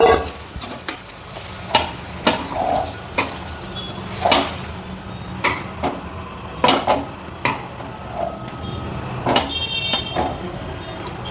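Fried chicken being stirred into green chilli masala in a pan, with repeated scraping and clinking spoon strokes against the metal over a steady low sizzle, close and irregular.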